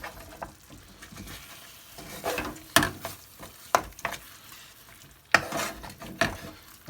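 Chili being stirred into sizzling chicken tikka masala curry in a pan, with steady frying hiss and several sharp scrapes and clacks of the spoon against the pan, loud and close, no talking.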